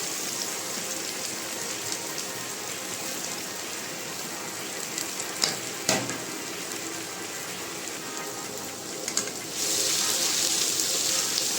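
Green chillies and onions fry in a pan with a steady, moderate sizzle, a couple of brief clatters midway and the hiss swelling louder near the end.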